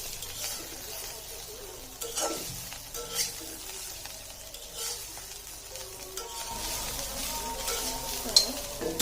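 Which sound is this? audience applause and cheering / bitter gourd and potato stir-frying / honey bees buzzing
bitter gourd and potato stir-frying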